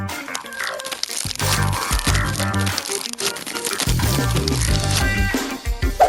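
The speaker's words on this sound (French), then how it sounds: "Je vais commencer par éplucher." Close crinkling and crunching as corn and onions are peeled, papery husks and skins tearing in loud, continuous rustles with brief pauses.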